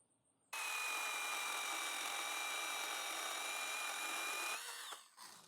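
A SeeSii battery-powered pole saw cuts through a branch about 1.5 inches thick, its motor starting abruptly into a loud steady whine for about four seconds before spinning down as the cut finishes.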